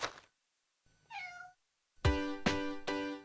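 A cat meows several times, first a short high call and then three louder, longer meows close by, with gaps of silence between them.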